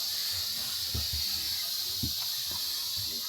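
Steam hisses loudly and continuously from the valve of an Afghan kazan pressure cooker on a stove in a forest house, while low voices talk faintly beneath the hiss.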